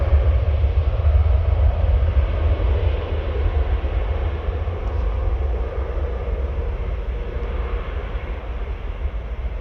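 An EasyJet Airbus A320 taking off from Paris Orly, a loud, steady roar of jet engines with deep rumble dominating, sustained and fairly close throughout without speech.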